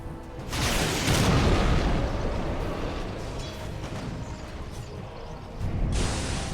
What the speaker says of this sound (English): Edict explosion damage.